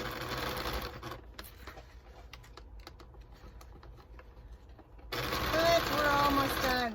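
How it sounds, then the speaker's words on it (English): A sewing machine with a dull needle top-stitches around a pants hem, its soft rapid patter running quietly for several seconds before a louder, busier stretch takes over. "I'm just going to do a simple little top stitch just all the way around the bottom here"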